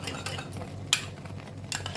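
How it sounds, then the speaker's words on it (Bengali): A spoon stirs spiced ash gourd sautéing in a pan with nuts, raisins, melon seeds and coconut, giving scraping clinks and a sharp knock over a soft low sizzle, close up. "এটাকে দিয়ে আমি একটুখানি ভালো করে কষিয়ে নেব"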